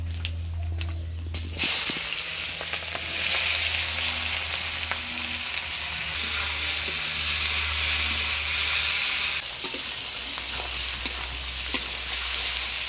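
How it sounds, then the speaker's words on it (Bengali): Chopped onion hisses loudly in oil tempered with dried red chilli, bay leaf and whole cumin, a steady close sizzle with occasional crackles over a low background hum, no voices. "এবারে দিয়ে দিচ্ছি পেঁয়াজ কুচি।"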